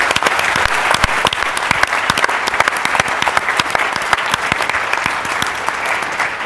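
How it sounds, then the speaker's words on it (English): Loud, dense applause from an audience at a Huntington's disease research forum, a steady wash of many hands clapping without pause, close and sustained throughout. "I think it'd be really nice if you guys could just clap again for those people"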